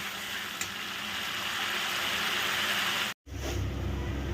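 Curry sautéing in a pan over a medium flame alongside an egg omelette, a dense, steady sizzle close by that cuts out briefly near the end and then resumes, with no talking.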